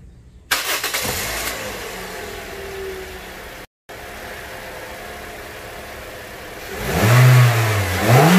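A Toyota Corolla Altis 1.6G with its intake hose detached starts up, settles into a steady idle, then revs loudly near the end with a deep, rising engine roar. No one speaks.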